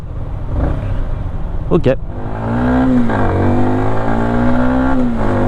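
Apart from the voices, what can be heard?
motorcycle engine idling and revving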